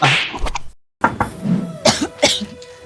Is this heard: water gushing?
no